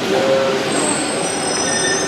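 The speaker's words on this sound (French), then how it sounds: "Là, on est dans la gare du métro. Il y a assez de monde quand même. Et là, il y a justement notre métro qui arrive." Paris metro train pulling into a busy underground station, its wheels squealing in sustained high-pitched tones over a loud, steady rumble that fills the whole stretch.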